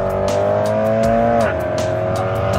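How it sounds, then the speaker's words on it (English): A BMW E92 M3 pulling up nearby, a steady loud engine drone that shifts pitch midway as it slows, heard outdoors with faint background clicks and no talk over it. "Nice E92 M3 pulls there."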